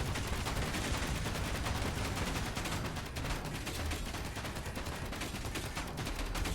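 Rapid, dense turret gunfire in the video game Space Engineers, a continuous stream of shots fired without pause for the full length, loud and close with no talking over it.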